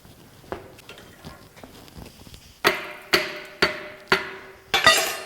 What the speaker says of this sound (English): Forgot my hammer.